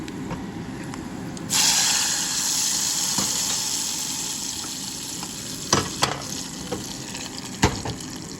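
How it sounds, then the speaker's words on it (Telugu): Hot tempering of mustard seeds, cumin, fenugreek, dried red chillies and garlic poured into cooked lentils, a brief sizzling burst followed by a soft, steady bubbling hiss and a few light clinks of a spoon. "సో ఇప్పుడు అయిన పోపుని మనము పప్పులో వేసేసుకుందాం"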